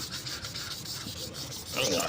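Harsh, scratchy rubbing of sandpaper across a painted surface, repeated strokes that grow louder and brighter near the end.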